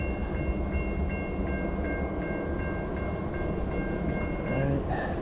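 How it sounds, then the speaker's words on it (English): A Metro commuter train rolls by near a trail in Prospect Heights with a continuous low rumble, rhythmic tonal squeals repeating evenly over the steady roar. "that is the Metro train that passed us"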